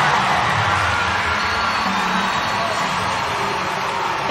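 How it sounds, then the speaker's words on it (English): Arena crowd cheering and whooping after a collegiate gymnastics uneven bars routine at a Georgia versus Alabama meet, a loud sustained roar filling the space without a break. "The crowd loves it."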